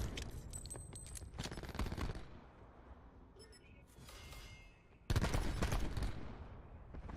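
Video game gunfire from an online shooter: bursts of rapid shots with a busy, noisy background of game sound, a loud burst near the end, heard alone at moderate distance without talk.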